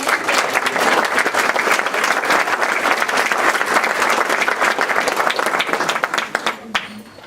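A school board meeting audience applauds students being honored, delivering a loud, dense and sustained round of clapping that fills the room and tapers off near the end.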